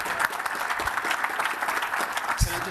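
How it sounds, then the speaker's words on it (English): Steady audience applause fills a conference hall after a keynote address at a precious metals summit in Beaver Creek, a dense, continuous patter of many hands with a few louder claps near the end. "we should give a round of applause to Jessica and the entire team here at Beave"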